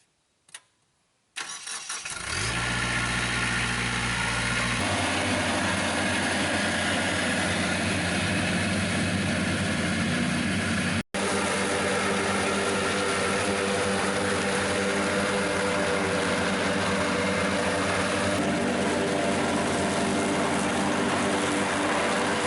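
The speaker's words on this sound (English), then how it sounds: "So we're all done mowing." A lawn mower engine sputters into life after a brief pause, then runs as a loud, steady, close drone for about twenty seconds, with no talking.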